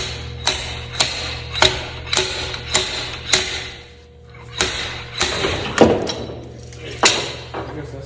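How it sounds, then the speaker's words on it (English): A slide hammer pulls on a Tesla front CV axle, striking in a steady series of sharp metallic impacts roughly every half second, close and loud, with a brief pause midway before the blows resume. "I have a slide hammer hooked on there."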